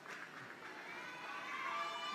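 Faint, distant crowd cheering and murmuring at a Malaysia vs Australia field hockey match in the Sultan of Johor Cup, a continuous wash of noise that swells slightly toward the end.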